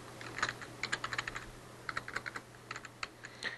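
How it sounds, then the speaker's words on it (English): Quick bursts of key clicks on a computer keyboard, faint and close, typed in short runs with small pauses between them. "I can type in Reports"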